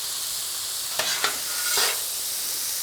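Steel spatula scrapes and taps twice on a flat-top griddle while ribeye and flank steak sizzle steadily beneath, a quick clatter then a longer scrape over a soft hiss.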